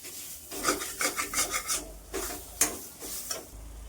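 Chana dal kachori filling is stir-fried with coriander powder, turmeric and Kashmiri red chili, heard as close, rhythmic rubbing scrapes of a spatula against the pan with a light sizzle underneath, no talking.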